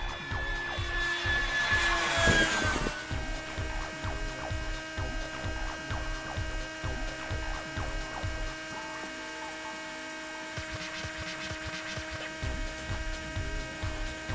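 A crashed P-80/F-80 Shooting Star scale model jet with an internal-combustion engine flies past a runway, giving a loud steady engine drone with a rising whine and a pulsing low rumble that holds throughout.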